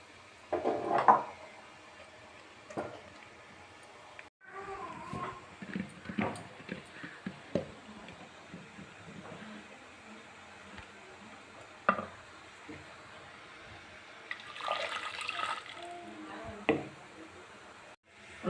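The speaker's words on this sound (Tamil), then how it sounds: "இப்போ நாம் இதை மத்து போட்டு கடைஞ்சிக்கலாம்." A wooden churner mashes tomato sambar in a pot up close, with irregular scraping, knocking strokes and soft stirring sounds that come and go quietly.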